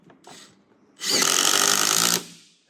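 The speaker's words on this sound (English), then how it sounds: "taking your screws, putting it directly behind the product, screwing straight through the foam" A power drill drives a screw through foam board into a timber window rebate, a short light whir, then over a second of loud steady whine that stops abruptly.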